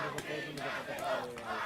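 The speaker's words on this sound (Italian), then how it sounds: "sostenuto dai tifosi che sentite in sottofondo, che chiamano la squadra, incitano la squadra" Supporters at an amateur football match between San Donà 1922 and Albignasego chanting and shouting to urge their team on, a distant blended crowd roar with rhythmic vocal swells.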